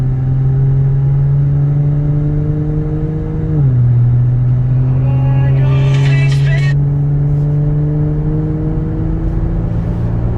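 A Kia Stinger 3.3 with a titanium variable muffler drones steadily, pitch climbing under acceleration after a brief gear-change dip, with a short burst of mechanical whine midway.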